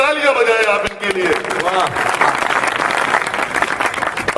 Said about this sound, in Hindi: एक बार तालियां बजाएं आप इनके लिए।